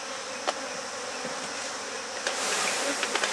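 Honeybees being moved into a new hive buzz steadily and close by, a dense humming drone with a few sharp ticks and knocks mixed in.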